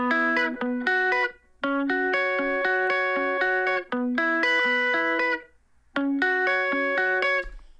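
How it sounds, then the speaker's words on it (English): Dry, twangy electric guitar through a British compressed Stark amp emulation, picking clean separate notes in short phrases with brief gaps between them, close and alone. "electric guitar that I intentionally left very basic."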